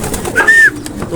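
A single pigeon coo during pigeon training sounds close and brief, a soft tonal call over low background noise.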